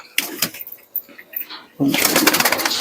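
Pigeons coo in a loft, soft low throaty calls close by, followed by a louder burst of fluttering and shuffling movement near the end, with a voice speaking over parts of it.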